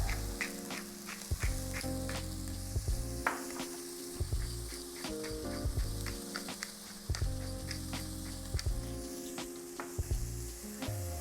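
Onions seasoned with salt and pepper sizzle steadily in a pan over low heat, with occasional clinks from stirring and low background music beneath.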